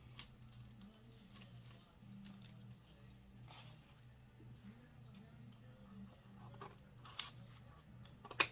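Scissors snip and trim overlapping craft material in a few sharp, isolated cuts over a low steady hum, close and fairly quiet.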